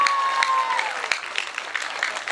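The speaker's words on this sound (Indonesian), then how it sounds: "Tepuk tangan untuk santri." Applause from a crowd at a religious gathering, a steady patter of clapping that fills the short stretch at moderate volume, with a faint whistle-like tone early on.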